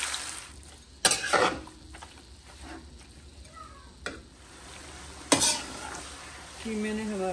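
Keema minced meat sizzles steadily on a tawa while a utensil stirs and scrapes it in a few distinct strokes, close and clear, with no talking.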